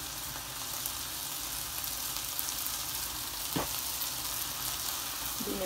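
Vegetables seasoned with salt and black pepper fry in a pan with an even, moderate sizzle, broken by one brief scrape of a utensil near the end.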